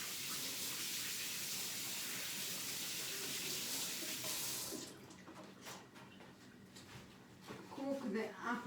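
Tap water runs in a loud steady stream while apple jam is being made, then cuts off halfway through, followed by quieter kitchen sounds and someone talking.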